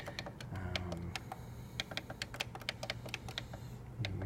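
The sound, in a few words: typing a password on a keyboard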